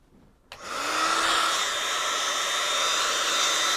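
A hair dryer clicks on and roars up to a steady, loud blowing whoosh, drying a freshly painted watercolour on paper, and runs on without a break at close range.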